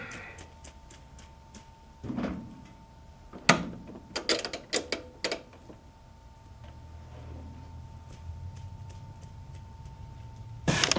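A Speed Queen AWN432SP111TW01 washing machine with a failing motor makes faint mechanical ticking and a low hum, with several sharp clunks in the middle and a rougher rising rumble toward the end, heard alone.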